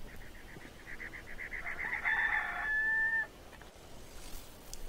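A chicken in the video game Case 1: The Fate Of Black Peter clucks in a quick run of rhythmic pulses, then lets out a louder, drawn-out call that ends abruptly, heard clearly against a quiet background.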